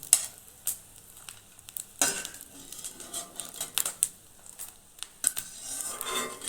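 Small pieces of dry fruit fry in ghee, giving a soft, steady sizzle. Light metallic clinks and scrapes of a spoon against the pan come and go on top of it.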